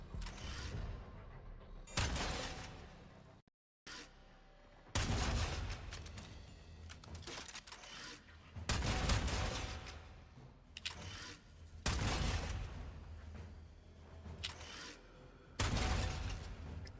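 Bursts of heavy cannon fire from a weapon in the Warframe video game, several loud booming volleys separated by short gaps, with mechanical reload clatter between them.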